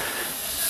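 A short, steady hiss of running air, like escaping gas, as an animal touches seawater, loud and continuous with no voices.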